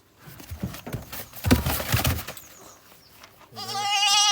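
Indistinct voices and movement sounds outdoors on a farm in Jamaica, then a ewe goat lets out a loud, wavering bleat near the end.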